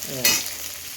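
Green chilies and grated coconut frying in a pan for coconut rice, a steady close sizzle with a sharp burst about a quarter second in as ingredients hit the oil, then settling into an even hiss.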